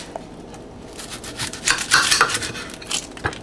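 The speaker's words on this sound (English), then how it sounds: "the way I cut onions quick is just to take off the ends" A knife trims the ends off an onion on a board, a few close, crisp clicks and scraping taps in quick succession, fairly loud and without speech.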